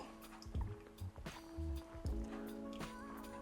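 A wet Chemex paper filter full of coffee grounds dropped into a sink, giving soft squishy thuds and a few drips, close and fairly quiet with a faint voice in the background.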